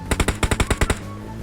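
Rapid burst of automatic gunfire in PUBG Mobile, about nine sharp, evenly spaced shots fired in quick succession and sounding loud and close, then a quiet tail.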